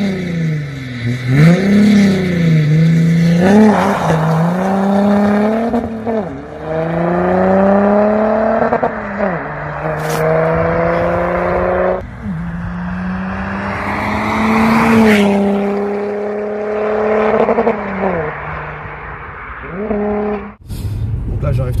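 An Audi V6 TDI diesel car engine drives and revs in repeated rising pulls with gear changes, loud and close, running steadily for the whole stretch.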